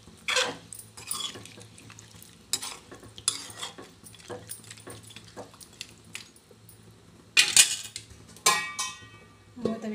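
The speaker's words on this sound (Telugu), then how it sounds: "తగినన్ని వాటర్ పోసుకోవాలి." Water poured into a pan of frying chicken on a stove, bursts of sizzling and hissing amid stirring and utensil clatter against the pan, close and intermittent.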